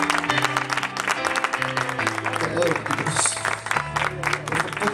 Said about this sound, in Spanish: Por favor, denle un fuerte aplauso a Dios.